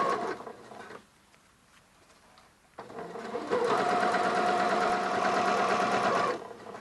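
Sewing machine fitted with an adjustable zipper foot, stitching piping cord: a brief pause, then a steady, loud, close mechanical whir of rapid stitching that runs for a few seconds before stopping.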